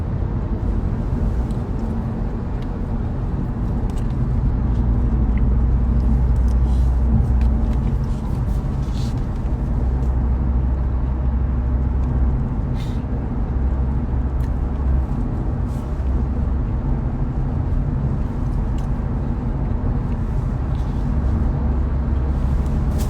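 A car cruises along a road on a long drive, a steady engine and road hum rumbling continuously and fairly loud throughout with no talking.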